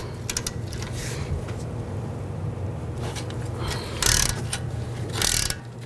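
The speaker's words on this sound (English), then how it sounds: "Helps to use a ratchet wrench once you get it loose" A ratchet wrench clicks in short bursts while loosening the nut on a front sway bar link of a 2010–16 Buick LaCrosse, with steady mechanical background hum and two louder rasping runs near the end.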